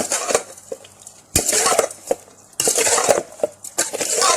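Vegetables being stirred in a pot with fish sauce and toasted rice for a Thai larb with mushrooms: repeated clanks and scrapes of a utensil against the pot in irregular bursts, close and fairly loud, with no talking.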